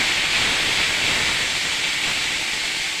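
Onions frying in a pan for a tomato gravy give a steady, close sizzle and hiss that holds evenly throughout with no voices.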